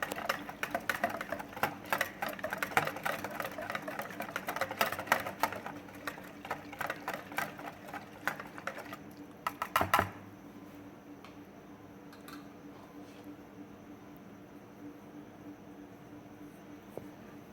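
Boondi batter being whisked hard in a bowl, a fast, dense run of rhythmic clicking and scraping strokes that stops about ten seconds in, leaving a quiet room.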